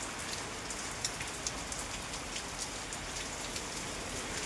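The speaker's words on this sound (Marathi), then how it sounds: "धुमाकूळ घालतोय पाऊस" Heavy monsoon rain falling steadily, a dense, even hiss of drops on surfaces with faint scattered patters, no voices.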